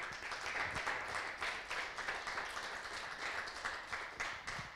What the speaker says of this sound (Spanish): Vamos a dar un aplauso por la vida de Tania.